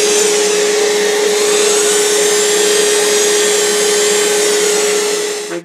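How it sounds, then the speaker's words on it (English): Wood being sanded on a woodturning lathe with 120-grit abrasive, a steady loud motor whine with a constant hum and broad hiss throughout, no talking, cutting off abruptly at the end. "I'm going to go ahead and start sanding with 120"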